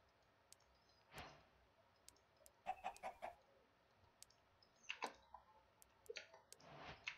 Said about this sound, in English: I hear chickens, which is a good thing.